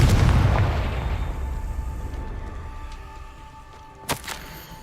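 A single big blast from a Confringo fire spell in the Hogwarts Legacy video game, a loud deep boom that rolls off into a long fading rumble, followed by a couple of faint sharp clicks.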